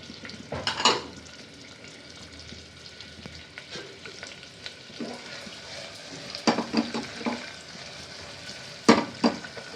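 Chopped onion and curry leaves frying in hot tempering oil for a sprouted horse gram curry, a steady sizzle with sharp crackling pops and occasional stirring scrapes, close up.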